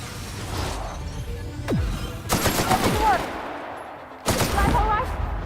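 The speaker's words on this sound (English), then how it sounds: "Shooting him when he's down." Gunfire in The Outer Worlds video game comes in loud bursts of rapid shots separated by short pauses, with a whooshing sweep before the first burst and faint talk under the action.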